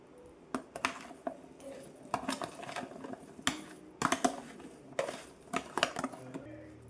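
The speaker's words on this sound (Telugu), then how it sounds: "ఇప్పుడు వీటి మొత్తాన్ని బాగా మిక్స్ చేసుకోవాలి" Mango pieces tossed with salt and turmeric for magaya pickle, producing a run of close, irregular clinks and clattering knocks of pieces and a utensil against a dish, fairly quiet with no talking.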